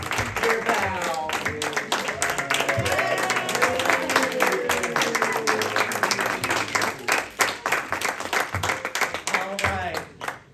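An audience claps as young performers bow at the end of a kids' showcase, steady applause with scattered cheers that gradually thins out, and a voice speaks over it.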